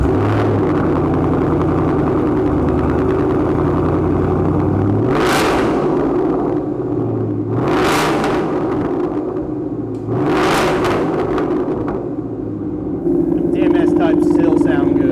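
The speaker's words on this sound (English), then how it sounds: "we're going to start off with some exhaust clips, so Brendan, fire it up." A 2018 Mustang GT with a Borla S-Type cat-back exhaust idles with a deep rumble, then gets three sharp rev blips a few seconds apart, loud and close. It settles back to idle between them and rises again at the end.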